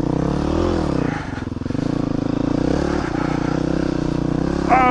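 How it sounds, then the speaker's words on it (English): A motorcycle engine runs steadily up close while riding through snow, its drone rising and dipping with the throttle, with occasional clattering bumps and a brief sharp squeal at the end. "nobody's crazy enough to ride a motorcycle out in this shit"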